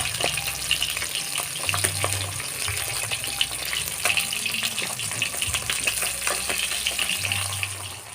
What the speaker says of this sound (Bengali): এবার আমরা তেলাপিয়া মাছটা ভেজে নেব।